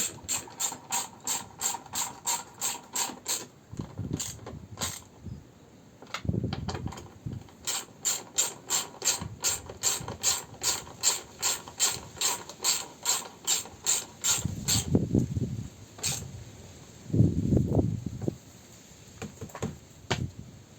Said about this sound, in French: on peut visser finalement